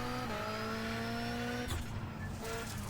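A rallycross car in the iRacing sim runs on a dirt track at Charlotte, its engine droning with steady harmonic tones, then rising through shifts and revs, with brief skidding from handbrake slides on loose ground.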